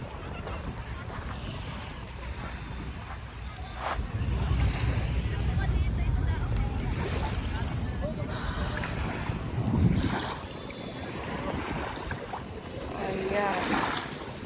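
Wind blows across the beach on Manila Bay with a continuous rushing noise and swelling gusts, mixed with surf-like washes. A voice speaks faintly underneath.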